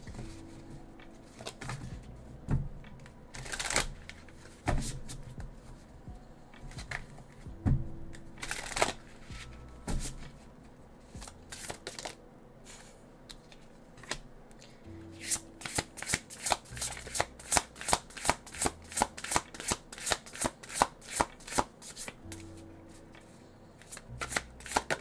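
An oracle card deck being shuffled repeatedly, a run of crisp riffling bursts that speed up into rapid regular flicks toward the end, close and clear with no talking.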